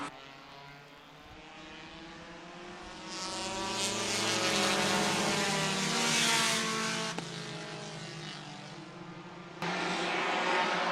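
A pack of outlaw late model race cars roars away on a restart at the Kalamazoo track, engines swelling from a distant rumble to a loud, sustained, layered howl.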